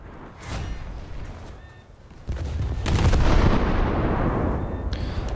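A German cruiser fires a torpedo salvo in a naval battle video game, producing loud, rumbling launch blasts and booming bursts that build into a sustained roar.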